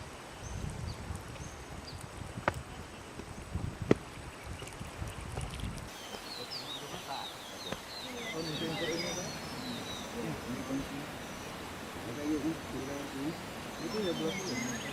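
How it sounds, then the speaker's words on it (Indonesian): Near a waterfall in Aceh Jaya, river water rustles and gurgles continuously, with faint bird chirps scattered through the second half and a few knocks and clatters early on. "sambil mendengar kicauan burung dan gemersik air sungai membuat suasana lebih rileks"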